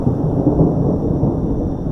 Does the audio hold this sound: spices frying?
no